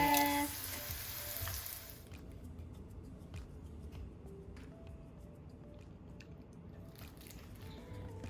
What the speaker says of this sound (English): we'll finish frying these up